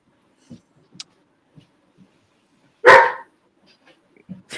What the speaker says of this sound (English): Oh, dog bark.